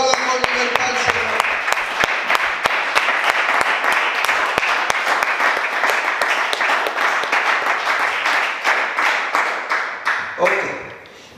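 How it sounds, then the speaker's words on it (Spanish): A church congregation claps together during a worship service, a dense, steady burst of applause sustained for several seconds before thinning out and fading at the end. "Aplaudan con libertad, Señor."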